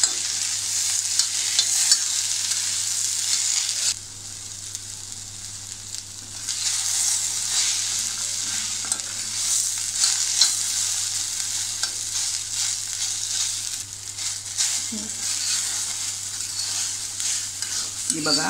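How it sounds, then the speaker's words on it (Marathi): Okra (bhindi) stir-frying in a pan, a continuous bright sizzle that drops briefly and returns as the pieces are tossed, with a few scraping stirs and a low steady hum underneath, no speech. "आता आपली थोडी भेंडी परतून झाली आहे"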